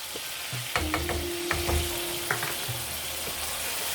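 Milk and sugar stirred in a pan while making sheer khurma, with a soft frying hiss, scattered scraping clicks of a spoon against the pan and a brief tonal whine mid-stir, close and moderately loud.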